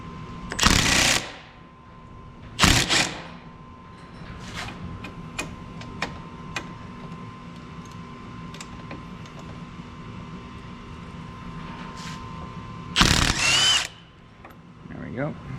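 A 19 mm lower ball joint retaining nut comes off a Chrysler PT Cruiser under a power tool, with three loud bursts of drilling or impact-driver whirring and scattered metallic ticks and clicks between them.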